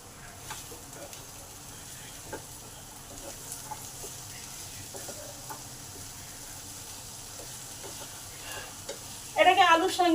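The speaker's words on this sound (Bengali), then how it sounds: "এটাকে আলুর সঙ্গে ভালো করে 5 মিনিট ধরে নেড়ে দেবো, যাতে কাঁচা গন্ধটা চলে যায়।" Ridge gourd is stirred with fried potato and onion in a pan under a steady close sizzle with light spatula taps, then a sharper, brighter burst of frying at the end.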